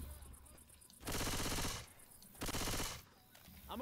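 Two loud bursts of rapid automatic gunfire in Left 4 Dead 2, each lasting under a second with a short gap between them, over quieter game ambience.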